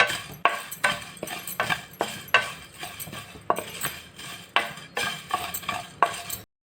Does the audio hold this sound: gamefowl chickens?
no